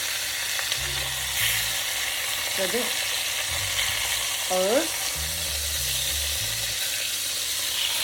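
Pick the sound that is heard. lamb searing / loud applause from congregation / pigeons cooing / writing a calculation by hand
lamb searing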